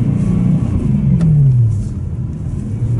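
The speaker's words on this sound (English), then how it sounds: "you can really hear this engine" A BMW E90 M3 engine with a six-speed manual revs up loudly and close by, the pitch rising then falling off into a steady idle rumble.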